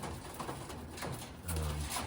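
Pigeons cooing softly close by, a low murmuring coo rising near the end over steady background hiss, with no talking.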